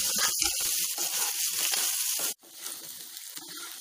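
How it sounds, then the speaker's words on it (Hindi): Boiled potatoes fry slowly in a pan over a low flame for a Navratri fasting dish, giving a faint, close sizzle with soft stirring noises and a brief pause partway through. "आलू को ब्राउन होने तक कुक होने दीजिए। लो फ्लेम पे ही कुक करना है इसे।"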